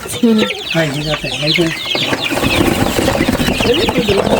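A large batch of newly bought chicks chirps continuously in a busy, high-pitched chorus close by, while people talk over it at the start.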